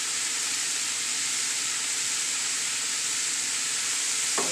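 Green onions slid into browning meat in a hot pan sizzle with a loud, steady, hiss that fills the whole stretch without pause.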